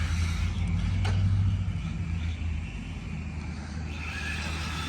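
A Losi 1/12 NASCAR RC car with a 21-tooth pinion, 4200 kV brushless motor and 30 amp ESC on a speed run, a loud steady motor whine that swells briefly then eases off, alone.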